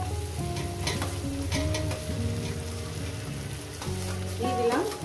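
Okra and potato frying in a spice paste of cumin, coriander and turmeric for a fish jhal, a steady close sizzle and crackle with stirring scrapes, under a sustained musical tone in the background.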